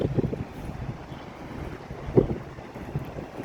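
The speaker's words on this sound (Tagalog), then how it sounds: "Yung hangin, ang lakas." Strong wind gusting on a Japanese trip from Osaka to Kyoto, rumbling as buffeting noise against the microphone in uneven surges, with a sharper gust near the middle and no voices.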